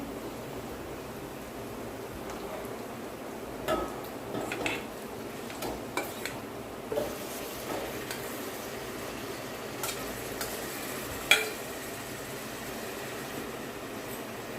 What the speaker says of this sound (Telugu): ఈ తలకాయ కూర అంతా కలబెట్టుకోవాలి